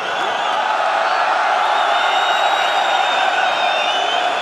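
A large crowd at a House of Glory fight faceoff cheers and whoops steadily for Team Badr, a dense, loud roar of voices that holds for the whole stretch without pause.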